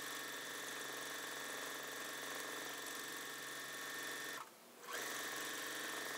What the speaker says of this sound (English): now that I have my dark value thread on my sewing machine